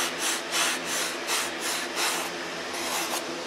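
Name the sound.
sanding a wooden model aircraft cowl with 80 grit sandpaper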